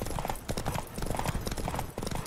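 Rapid rhythmic clip-clop of horse hooves galloping at speed in The Witcher 3 game, loud and continuous, with a brief whinny and a voice faintly underneath.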